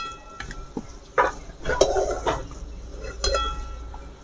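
Fried potatoes being moved about in hot oil in a pan for a chicken curry, with spoon scrapes and clinks over a low sizzle, close and fairly loud.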